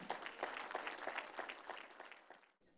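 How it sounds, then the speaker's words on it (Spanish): Enthusiastic applause from a church congregation, steady clapping that fills the room before cutting off abruptly near the end. "Den un aplauso al Señor."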